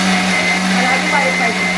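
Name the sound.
mixer grinder grinding idli dosa batter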